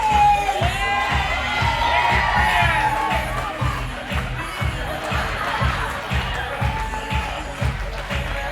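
A wedding reception crowd cheers, whoops and shouts as a couple in the wedding party makes their entrance, loud and sustained over a thumping music beat.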